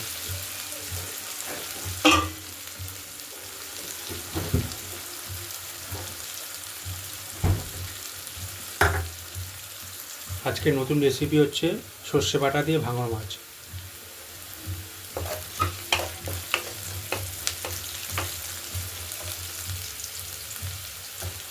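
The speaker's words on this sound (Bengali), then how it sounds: "ভালো করে পেঁয়াজটাকে ভেজে নেব" Onions sizzling steadily in a pan, with intermittent stirring knocks and a person speaking over the frying partway through.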